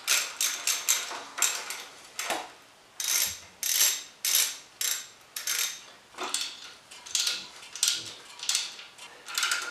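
A hand wrench clicks and ratchets in quick repeated strokes while loosening the alternator bolt on a Jeep CJ7, each turn a close, crisp metallic burst in an uneven rhythm.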